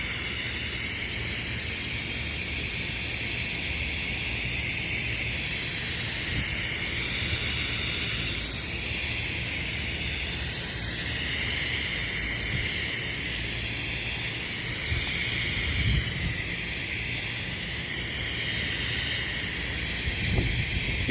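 Aerosol coil cleaner sprayed between the tubes of an HVAC condenser makes a steady, close hissing spray that runs almost continuously with few breaks, and no one speaks over it.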